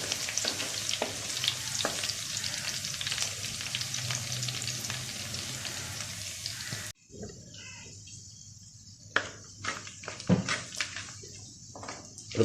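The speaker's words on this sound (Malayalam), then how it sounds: "ഇനി നമുക്ക് ഇതിൽ വെളുത്തുള്ളി ചേർത്ത് കൊടുക്കാം" Five large garlic cloves fry in a clay pot for fish curry, a loud close sizzle at first that drops abruptly to quieter crackling, with occasional stirring clicks and spoon knocks against the pot.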